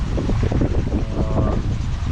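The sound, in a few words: wind blowing while sailing in an atoll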